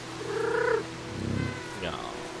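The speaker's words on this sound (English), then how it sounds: "it's like a family of cats" Cats in the video game Stray meow and purr: a bright meow, then a low rumbling purr, then a rising meow, close and clear, with a voice speaking over them.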